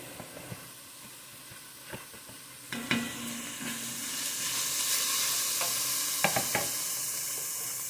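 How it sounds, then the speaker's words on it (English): Chopped garlic and chilies hit a hot pan for a vegan kabocha squash and red lentil curry; a few clinks come first, then the sizzle swells into a loud, steady hiss close by. "I'm going to add that garlic that we chopped up. Well, and I'll add the chilies too."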